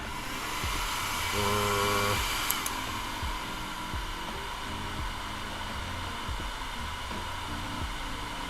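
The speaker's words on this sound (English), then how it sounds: "Let's give that a quick blow dry." A hair dryer blows steadily close up to dry blue paint on a Warhammer 40k miniature, a continuous whooshing drone with a faint hum that swells briefly and then holds level throughout.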